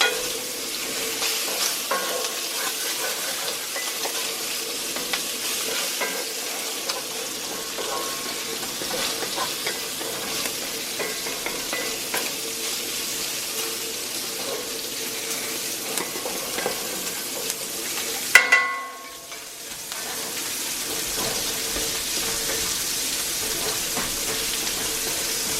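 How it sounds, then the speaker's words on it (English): Pork products fry in a cast iron pan, a steady, close sizzle running almost without a break, briefly interrupted by a sharp clatter before the frying noise picks up again. "the pork products are cooking up nicely"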